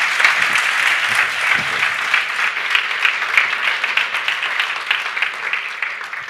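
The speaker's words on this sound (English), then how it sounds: "let's give Mark a big round of applause" A conference audience gives a sustained round of applause for a guest, dense steady clapping filling the room from start to finish at an even level.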